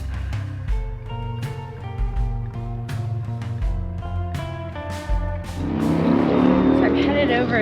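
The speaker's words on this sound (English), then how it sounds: "It's a little traffic behind me, it's a little bit noisy" Road traffic rushes past behind a person on the way to a sailboat, with several car pass-bys swelling and fading and a louder, denser roar building toward the end, all under steady talking.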